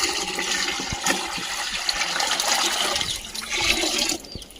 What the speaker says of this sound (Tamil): இதில் 5 லிட்டர் கோமியம் சேர்த்த போகிறோம்.